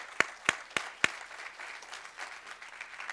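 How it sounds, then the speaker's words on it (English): Applause from a board meeting audience: four sharp, distinct claps open the moment, then thin, scattered clapping that carries on at a moderate distance. "You should all give yourself a round of applause."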